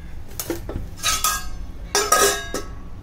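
A lid goes onto a cooking pot in several bright metallic clanks and clinks, two clusters of rattling contact with short pauses between, close and fairly loud with no voices.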